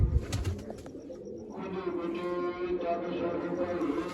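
A nesting pigeon sitting on its eggs gives soft, low coos, close by and fairly quiet against a light hum, with a brief clatter at the start.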